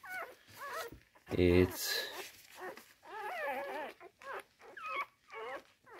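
A litter of six newborn puppies whimpering and squeaking in high, wavering cries, close and fairly quiet, with a person speaking briefly between the cries.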